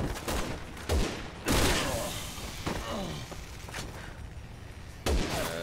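A grenade explosion and gunfire from the video game Resident Evil 6 sound as several sharp, loud bursts spread across a few seconds, with game noise between them and a voice talking at times.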